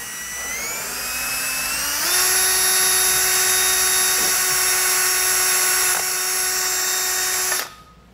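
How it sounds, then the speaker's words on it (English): A power drill whines steadily at close range while drilling holes to mount an exterior ladder on an RV travel trailer, its pitch stepping up partway through before running at full speed and cutting off abruptly. "Make this drill nice and level,"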